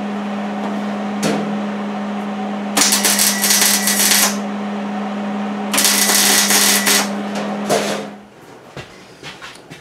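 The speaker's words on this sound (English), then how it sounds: "I'm gonna add another little weld onto that bracket because it's really loose" MIG welding on a bracket for a 1953-1955 Ford F-100 gas tank mount: two loud crackling weld bursts of a second or so each, over a steady machine hum that cuts off near the end.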